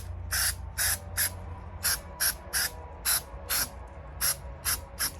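Adhesive hisses from a spray can onto a car's roof headliner in about a dozen short, sharp bursts at an irregular rhythm, close and clear, with no speech.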